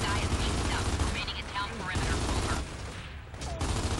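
Dense rattling gunfire in Gears of War 2, continuous and loud, with battle noise and voices mixed in.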